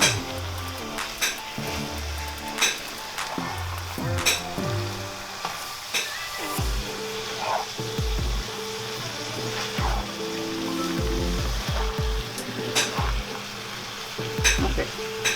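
Minced meat frying in a pan for Nigerian meat pie filling, a steady close sizzle with occasional stirring scrapes and light clinks, no talking.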